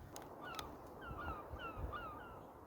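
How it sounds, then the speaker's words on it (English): Two seagulls chasing off a buzzard high overhead above an allotment plot, giving a run of faint, distant, repeated squealing calls against quiet outdoor background noise. "there's two seagulls chasing off a buzzard"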